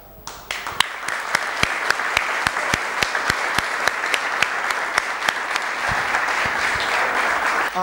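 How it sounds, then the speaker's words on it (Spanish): A TEDx audience claps in unison at a speaker's request, sharp rhythmic claps at a brisk steady beat that gradually merge into a continuous roar of loud, dense applause. "le voy a pedir que aplaudamos un instante y que observemos qué pasa"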